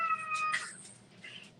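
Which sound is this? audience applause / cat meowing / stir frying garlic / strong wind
cat meowing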